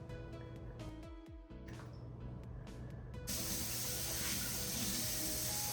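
Milk poured from a measuring cup into a bowl of pancake batter gives a steady, close splashing pour that turns into a louder, denser rush partway through, with no talking.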